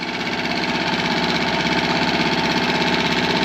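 A Tohatsu 6hp outboard motor idles as it warms up, a steady close putter with a fast even pulsing beat and no voices over it.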